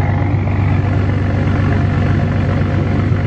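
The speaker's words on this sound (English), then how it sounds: "she gets really quiet on the idles after the cold start" A Dodge Challenger R/T with a V6 engine idling after a cold start, giving a steady, smooth low rumble that stays fairly quiet and even throughout with no revving.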